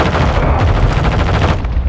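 Sustained gunfire from Call of Duty: Modern Warfare II, with dense overlapping shots and bursts at a steady loud level throughout, a continuous barrage with no pauses.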